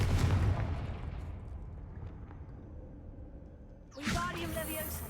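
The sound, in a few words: Confringo explosive spell in the video game Hogwarts Legacy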